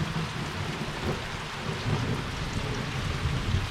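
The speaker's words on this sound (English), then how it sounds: "Oh, I hear the thunder." Steady rain patters continuously with low rolling thunder rumbling beneath it, fairly faint and distant.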